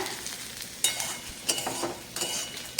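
Potato pieces seasoned with salt and turmeric frying gently in a pan for a Bengali meal, a steady soft sizzle broken by three or four brief louder bursts of stirring, close and fairly quiet with no talk.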